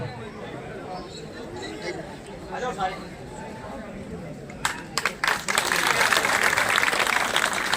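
A village crowd in Haryana breaks into applause to welcome Devender Kadyan, loud dense clapping that swells in the final seconds after a stretch of murmuring voices and chatter.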